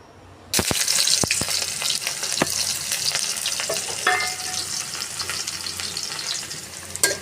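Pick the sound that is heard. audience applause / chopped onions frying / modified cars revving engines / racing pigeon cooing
chopped onions frying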